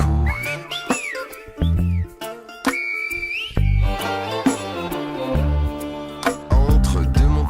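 Silbo, the whistled language of the Canary Islands, sounds as Guanche-style whistling carried between mountains: piercing rising and falling whistled glides in short phrases, set against tonal musical accompaniment.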